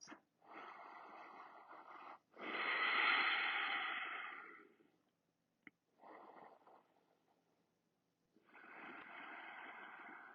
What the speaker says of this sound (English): we'll take 3 more breaths